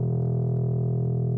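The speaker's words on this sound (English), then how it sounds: "And then the last part of that first instrumental stack was this bass." A sustained, buzzy synth bass note holds steadily with a thick, slightly distorted low tone and no other sounds.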